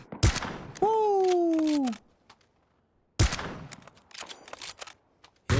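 Gunfire in PUBG, with sharp, loud shots in separate bursts broken by silence. A voice gives a short excited shout between the shots.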